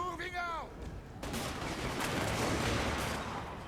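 Handgunner volleys in a Total War Warhammer battle crackle as dense, continuous gunfire, loud and sustained after a brief voice at the start.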